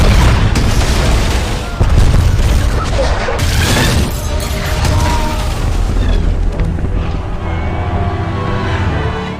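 Heavy booming cannon fire and rumbling explosions, loud and dense, with crackling bursts layered over a continuous low roar.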